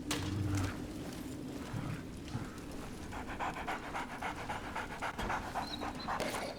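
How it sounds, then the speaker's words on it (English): A dog in the game Remnant from the Ashes pants rapidly and steadily while being petted, a breathy rhythmic huffing over low ambient game sound, with no speech. "I'm just going to pet your dog."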